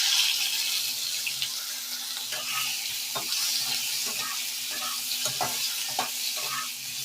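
A potato frying in the oil left from frying an egg with salt and turmeric, a continuous bright sizzle with soft scraping stirs at intervals, no talking.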